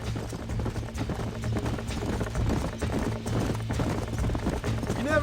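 Galloping horse hooves from the western video game Red Dead Redemption drum in a fast, continuous rhythm under a dense wash of game sound and music, loud and close throughout.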